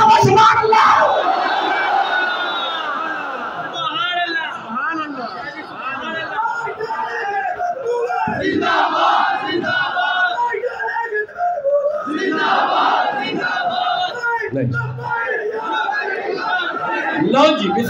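A large religious gathering at a jamia chanting slogans, a loud crowd of many voices shouting and calling out in waves, with a leading voice rising above the massed response throughout.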